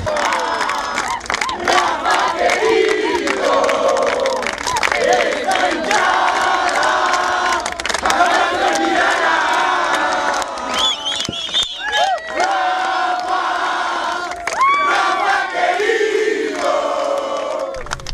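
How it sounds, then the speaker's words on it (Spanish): Hundreds of mourners at a cemetery in Honduras chant and cheer loudly during a funeral procession for a businessman and sports leader. The roar of voices is dense and sustained, with scattered shouts throughout. "centenares de personas reiteraron su agradecimiento con sonoros aplausos"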